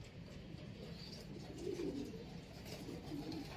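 Racing pigeons coo softly and repeatedly inside a loft, with faint low calls sounding against a steady background hum. No one speaks.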